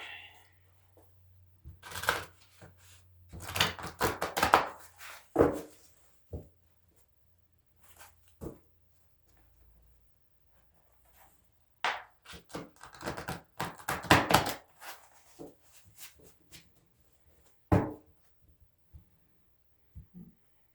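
A deck of tarot cards is shuffled by hand in several separate bursts of quick papery riffles and taps, close and fairly quiet, with silent pauses between the rounds.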